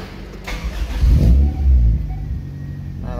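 An injected car engine converted to run on LPG fuel cranks, catches and is revved, its low rumble swelling and easing before settling into a steady idle.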